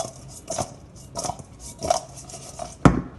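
Chicken wings being tossed and mixed in a bowl with truffle oil, giving a handful of separate clattering, squishy bursts of bowl-and-utensil contact at irregular intervals, close up, with a sharper knock near the end.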